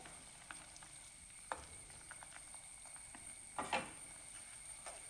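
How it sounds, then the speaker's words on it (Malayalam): Fish curry gravy with green chilli bubbling in a pan, heard as quiet, sparse pops and soft sizzling crackles with a few louder bursts near the end and no talking. "ഇപ്പോൾ ഗ്രേവി നന്നായിട്ട് തിളച്ചിട്ടുണ്ട്."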